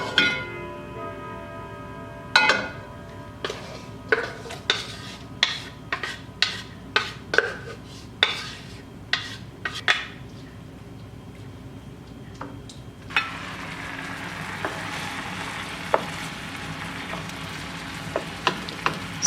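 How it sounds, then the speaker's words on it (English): Chicken pieces sizzle in olive oil in a frying pan on a medium burner, a steady close hiss broken by clinks and scrapes of a utensil stirring, the frying swelling louder and brighter partway through. "I'll take the chicken, pour all this chicken into my frying pan."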